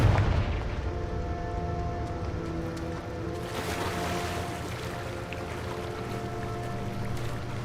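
Confringo explosive spell fired in Hogwarts Legacy: a sharp blast at the start gives way to a sustained rumbling roar with steady tonal hum, fairly loud and without speech.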